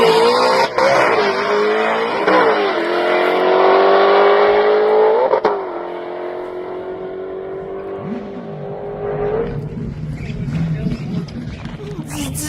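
Gen 1 Mustang drag race car with an independent rear suspension and drag radials making a full-throttle run, its engine screaming loud and close through rising gear pulls, then easing off to a lower drone near the end.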